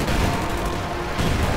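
Grenade blasts and explosive gunfire from the video game Company of Heroes 2, a dense, loud, continuous rumble of battle with booming impacts throughout.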